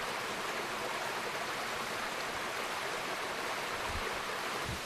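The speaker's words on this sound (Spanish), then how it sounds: "Seguimos el curso del río" A river stream flows steadily along a hiking trail in Vega de Pas, a continuous broadband rushing and babbling of water heard alone, moderately loud with a few low thumps near the end.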